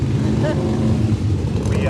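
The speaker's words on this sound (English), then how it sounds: "there's some motorcycles that are probably blowing out the audio" Motorcycles pass by at a motorcycle campground with a loud, continuous low engine rumble that swamps the background. Wind buffets the microphone throughout.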